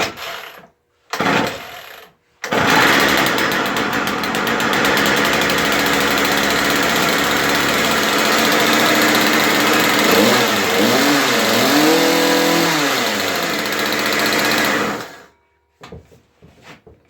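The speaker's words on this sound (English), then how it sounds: "Nice little saw. It's got a little short little bar." A small chainsaw with a short bar starts up and runs loud and close for about twelve seconds, its engine revving and rising and falling in pitch, then cuts off into quiet.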